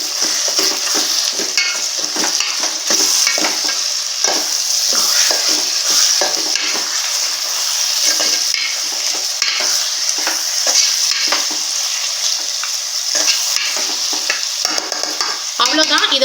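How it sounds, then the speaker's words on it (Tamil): Mutton stirred and fried in oil for mutton ennai kari, with loud continuous sizzling and frequent scraping stirs of a spoon in a pan, no voices. "இப்போ இதை கலந்து விட்டுக்கிறலாம்."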